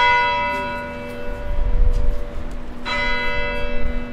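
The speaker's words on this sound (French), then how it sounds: "ils étaient tellement fiers et contents d'entendre la cloche" A church bell rings out in a rebuilt church in Iraq, with long sustained harmonic tones ringing and decaying, then a fresh, louder strike near the end renewing the bright overtones, with no voices present.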